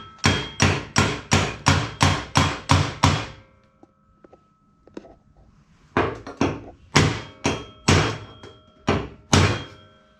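A tack-welded minibike part struck with a hammer, two bursts of rapid, loud metallic blows, about eight in quick succession, a pause with faint clinks, then another run of heavy strikes close by.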